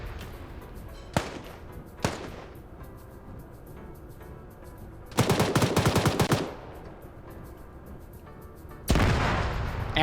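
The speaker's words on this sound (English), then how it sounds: "Grenades might actually cook off the Hilux." A Hilux pickup cooks off in a video game after grenades land on it: two sharp bangs, then a dense crackling burst of rapid pops, and a loud sustained blast at the end, with no talk.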